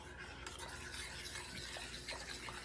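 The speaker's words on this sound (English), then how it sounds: "We're going to stir that in there." A spoon stirs crushed pineapple with its juice into a blueberry salad, a close, quiet, continuous wet scraping and sloshing with no talking.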